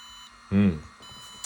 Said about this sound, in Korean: 자, 이게 제대로 지금 펌웨어 업데이트 되는 소리입니다.